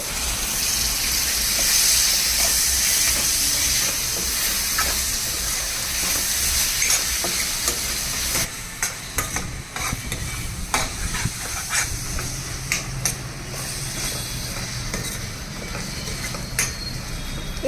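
Chopped tomatoes tipped into fried onions in a hot pan set off a loud, steady broadband sizzle and hiss with scattered crackles, dropping somewhat in level partway through as the sizzling settles.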